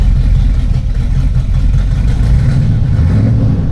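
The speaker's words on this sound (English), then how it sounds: "And it's just a stock 305 car. The exhaust just sounds really good." A 1986 Chevrolet Monte Carlo SS with its stock 305 engine idles, the exhaust giving a loud, close, steady deep rumble that holds evenly throughout with no talking.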